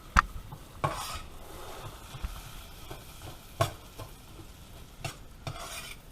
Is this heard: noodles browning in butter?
yes